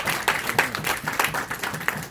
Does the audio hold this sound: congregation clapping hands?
yes